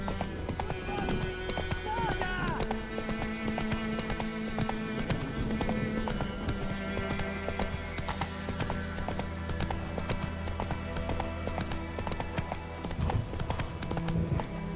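Roach the horse's hooves clip-clop steadily at a walking pace in The Witcher 3: Wild Hunt, close and continuous over game music and ambience, with a brief whinny and a voice speaking.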